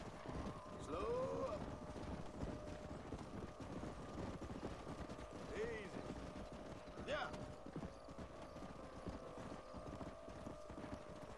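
Horses gallop in the Red Dead Redemption video game, a steady rhythmic clip-clop of hooves running throughout, with a few faint whinnies and other game sounds in the background.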